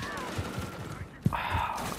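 Rapid automatic gunfire in the video game Call of Duty: Modern Warfare III, a rattling burst of shots with one sharper crack, brief and moderately loud under a player's voice.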